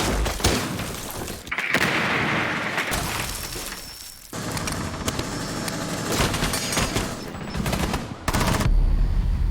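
Gunfire in Rainbow Six Siege during a console esports match, with loud, dense bursts of automatic fire, sharp single shots and thuds crowding the scene, a short lull midway, then more shooting.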